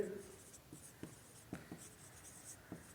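Pen scratching on paper while filling in a table column, a faint, close series of short strokes and taps at an uneven pace.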